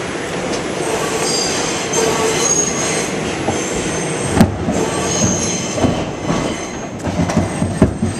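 Subway train running along the track with wheels squealing, a loud continuous rumble and rattle with sharp metallic screeches and clicking bursts, close by.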